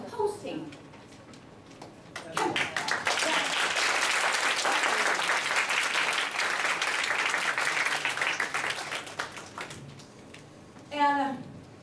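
A meeting audience gives the hosts a big round of applause, swelling from scattered claps into loud sustained clapping that fades before a voice speaks briefly at the end.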